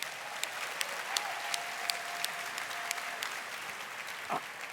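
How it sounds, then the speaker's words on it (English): An audience at a Roblox developer keynote claps steadily, with moderate applause filling the hall for several seconds. "Can I get a round of applause for our devoted creators of assets and tools?"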